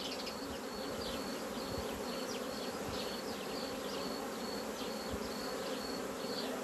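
A steady, dense drone of honeybees buzzing around an open hive, close and continuous, with individual bees whining past now and then.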